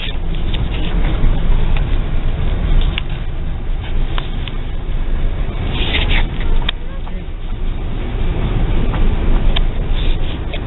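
CN M385 southbound freight train passing in New Haven, Michigan, a continuous heavy rumble and clatter of cars rolling by close and loud, with occasional sharper squeals and knocks.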